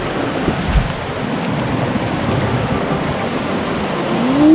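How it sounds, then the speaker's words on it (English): A gigantic waterfall at Marble Falls roars as a steady, broad rush of falling water, continuous and loud throughout with no voices over it. "There is the waterfall. This thing is gigantic."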